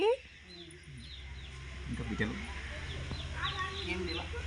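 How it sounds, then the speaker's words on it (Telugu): Outdoor farmyard ambience with soft bird calls and hen clucks, faint background voices, and an abrupt loud burst at the very start. "మా కోళ్ళు చూడండి"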